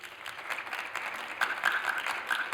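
Audience clapping to vote for the second entry at a visual art talk, a dense, even patter of many hands at moderate level, swelling slightly in the second half with a faint whistle or tone riding on top.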